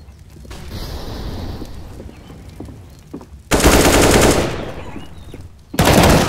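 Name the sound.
flashbang grenade thrown in Counter-Strike video game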